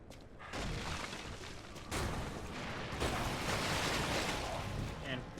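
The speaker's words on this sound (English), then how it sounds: "Sharpen my weapon." A weapon being sharpened in the video game Lies of P, heard as a steady, rough grinding rasp that holds at a fairly even level, with slight surges as the strokes shift.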